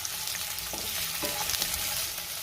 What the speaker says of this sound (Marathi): आता ह्यातच मी कांदा घालते। कांदाही आपल्याला 2 मिनिटं चांगला परतून घ्यायचा आहे।